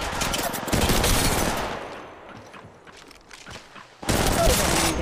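Rapid automatic gunfire bursts in the mobile battle royale game Apex Legends Mobile, loud and dense at the start, easing into scattered shots and then resuming heavily.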